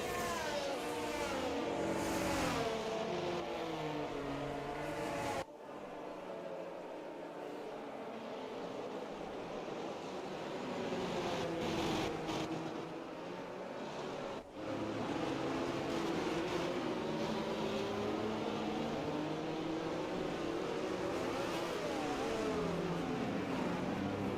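Race cars circling the Circuit of the Americas in a racing video game, engines droning and revving continuously, with two brief dips where the sound cuts and the roar swells back.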